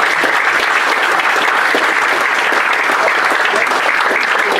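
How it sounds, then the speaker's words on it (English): Loud, steady audience applause at a Q+A event at the Cube Microplex cinema, a dense wash of many hands clapping continuously and close for several seconds without talk. "Give him a round of applause."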